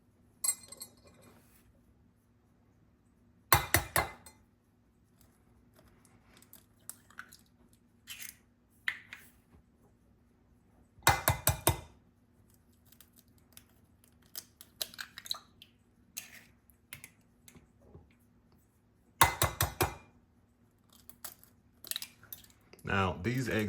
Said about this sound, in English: let's start by cracking the eggs